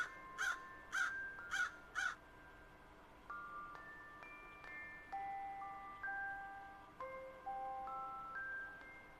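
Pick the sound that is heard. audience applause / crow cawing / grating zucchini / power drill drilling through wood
crow cawing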